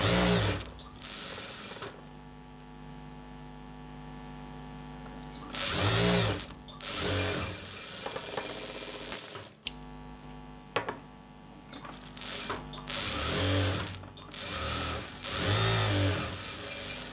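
A sewing machine stitches a chudi pant in bursts of rapid mechanical whirring, close by, separated by pauses filled with a steady low electrical hum.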